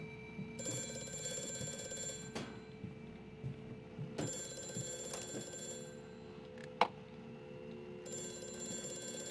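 Telephones ring in the video game Amnesia: A Machine for Pigs, an old-style electric bell ringing in three long bursts with pauses between, moderately loud over a low ambient hum, with one sharp click in a gap.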